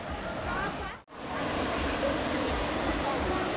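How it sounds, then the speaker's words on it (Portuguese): Três Quedas waterfall in the Serra das Andorinhas, a steady broadband roar of falling water, close and continuous, briefly cut out once before resuming. "Esse local aqui é a cachoeira, conhecido como Cachoeira de Três Quedas."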